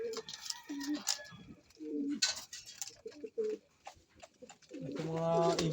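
Pigeons cooing in soft low repeated calls in a fancier's loft, with someone talking intermittently nearby and the cooing building louder at the end.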